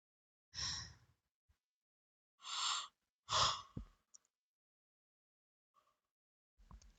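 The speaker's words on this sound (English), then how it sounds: "Sorry for the yawning." Three drawn-out yawning breaths, each a breathy, sighing exhale, come in a slow sequence close to the listener, with a few faint clicks and a soft final breath between them.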